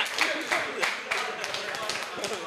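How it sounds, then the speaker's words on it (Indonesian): An audience at a football-themed TV show claps in a brisk, uneven patter of hand claps, fairly close, with voices talking faintly underneath. "Tepuk tangan buat Yosua"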